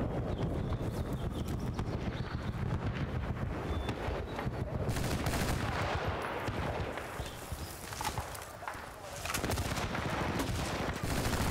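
Dense, continuous gunfire rattles through a Battlefield: Bad Company 2 battle, loud overlapping shots and explosions filling the whole stretch with only a brief dip near the end.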